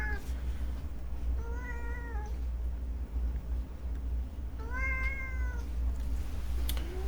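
A house cat meows twice, a few seconds apart, each call a drawn-out wavering cry that rises and falls, over a steady low mechanical hum.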